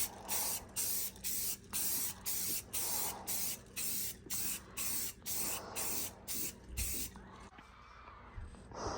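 Aerosol spray paint laid on as a first coat over a drill press part, about a dozen short hissing bursts in an even rhythm, then fainter handling noises at the end.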